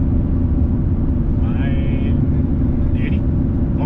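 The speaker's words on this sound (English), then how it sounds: "I'm foot to the floor. It just downshifted." A RAM 3500 pickup's engine pulls hard at full throttle up a 6% grade while hauling a wide load, a steady loud drone that fills the clip with no pauses.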